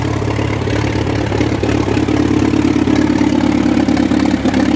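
A loud early Massey Harris 25 tractor engine on steel wheels idles steadily with a low, chugging rumble and light mechanical clatter, growing slightly fuller midway, with no talking.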